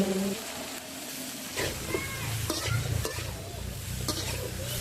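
Potato, eggplant and flat beans are stirred into hot oil after a five-spice tempering, sizzling and frying steadily in the pan with scraping stir strokes and bursts of hiss.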